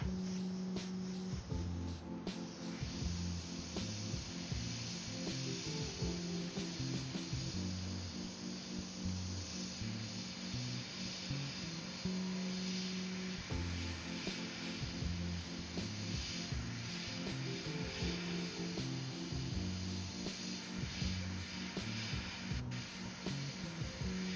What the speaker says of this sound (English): we're using our 4th airbrush